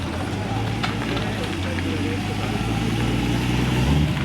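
The 1979 Daytona 24 Hours-winning Porsche 935 race car rumbles along at low speed in a concours parade, a steady deep engine drone, fairly loud and near, with a voice talking over it.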